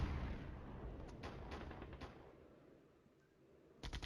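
Off-map 122 mm artillery fire in the wargame Flashpoint Campaigns Germany Reforged: a loud low rumble fades into a series of distant thumps, then a fresh cluster of sharp, close impacts at the end.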